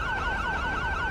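A police car siren in GTA with the LSPDFR mod wails loud and steady, its pitch sweeping up and down in a fast repeating cycle with no one speaking.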